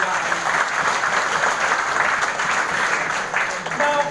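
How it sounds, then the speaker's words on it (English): Audience at a graduation dinner gathering applauds steadily, a dense wash of clapping from many hands filling the room for about four seconds with scattered voices mixed in. "Give yourself a clap right now, all of you guys."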